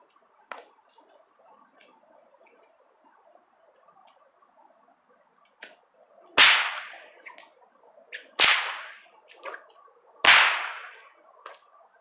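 An 8-foot bullwhip cracks three times, each a sharp, very loud report about two seconds apart. Earlier come quieter snaps and swishing over faint background hum, and no one speaks.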